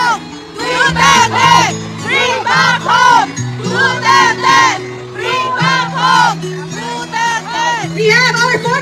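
A rally crowd in Davao shouts and chants in loud rhythmic bursts, many voices rising and falling together over a mic'd announcer calling out between the chants.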